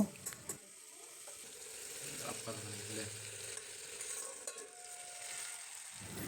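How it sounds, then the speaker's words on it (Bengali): Potatoes sautéed in a pan for alu posto hiss with a quiet, continuous sizzle, broken by a few soft scraping and knocking stirs, all fairly faint. "সব কিছু দেওয়া হয়ে গেলে আলুটাকে ভালোভাবে কষিয়ে নিতে হবে।"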